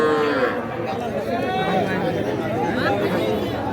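Small bull and heifer calves low and moo at a busy rural cattle market, with crowd chatter and nearby talk throughout.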